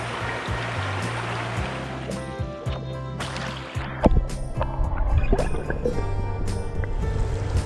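Water in a brown trout creek on an evening outing flows with a steady rushing babble. Knocks and splashy gurgles sit close at first, then the water swells into a louder, fuller rush.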